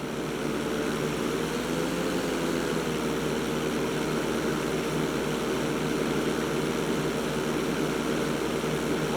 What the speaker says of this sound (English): roll your plane over to the opposite side and hold the position